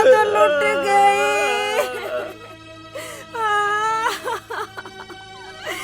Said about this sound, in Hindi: मैं तो मोहल्ले में तो रोने की आवाज आ रही है, हैं?